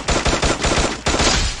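Gunfire in a shooter video game crackles in a loud, close burst of rapid shots, several sharp reports in quick succession with a short pause midway.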